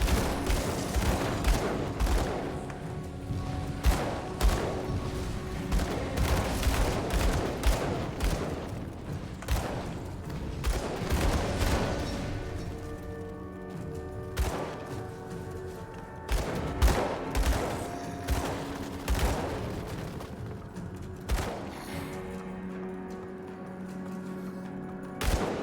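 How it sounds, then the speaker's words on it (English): Continuous combat in the video game Grim Dawn, with rapid repeated gunshots and impacts that layer into a steady loud barrage over a droning game soundtrack. "Gun them all down."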